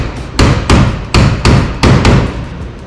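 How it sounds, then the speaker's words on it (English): A hammer flattens a metal bracket with about six sharp, loud, close blows in a steady rhythm, each ringing briefly before the next strike. "Use your hammer."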